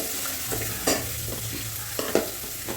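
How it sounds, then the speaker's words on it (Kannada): Green chillies and onions fry in a pan, a steady sizzle broken by several close scraping stirs of a spoon against the pan. "ಇವಾಗ ಮೆಣಸಿನ್ಕಾಯಿ ಮತ್ತು ಉಳ್ಳಾಗಡ್ಡಿ ಸೇರಿಸ್ತಾ ಇದ್ದೀನಿ ಫ್ರೆಂಡ್ಸ್"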